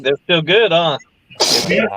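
People talk briefly, then after a pause one person gives a single loud, close sneeze with a sharp burst and a trailing exhale.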